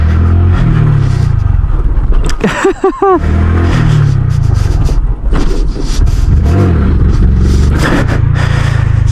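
A Honda Grom motorcycle engine drones loudly and close during stoppies, with a low steady rumble, a brief burst of higher whining and squealing partway through, then the engine note carrying on, with no talking.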